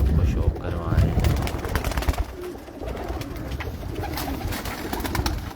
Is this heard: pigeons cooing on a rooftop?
yes